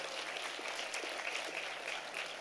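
A banquet audience at a formal awards dinner gives a steady round of applause, a dense, even patter of many hands heard from some distance without a break.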